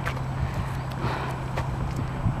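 Horses stand by a fence at the Irish National Stud, their hooves clopping and shuffling softly nearby against a steady outdoor background.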